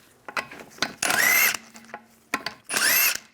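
Close, loud bursts of a power impact tool spinning off the 17mm lug bolts on a Volkswagen Beetle rear wheel, two sustained whirring runs about half a second long, with clanks and socket handling between them.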